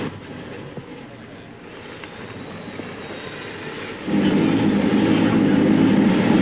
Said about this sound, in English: the engines have come to life here